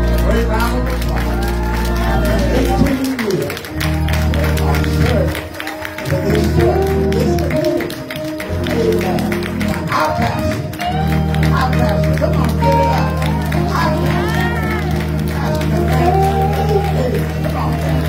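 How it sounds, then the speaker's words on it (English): A church congregation stands and applauds together, a steady broad wash of clapping and crowd noise that runs almost the whole time under music, with brief dips near the start and middle. "let's give a great round of applause"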